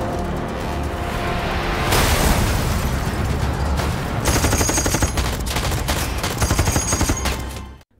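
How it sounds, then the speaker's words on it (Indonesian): Dense gunfire from a film shootout as robbers battle guards, with loud sustained bursts and rapid shots over a heavy rumbling background. "Terjadi aksi baku tembak yang sangat epik, tapi mereka berhasil mengalahkan para penjaga dengan sangat easy."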